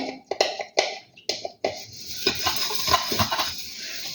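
Pots, pans and utensils being washed by hand, with a run of sharp clinks and clatters in the first half, then steady running water and scrubbing with scattered knocks of crockery close by.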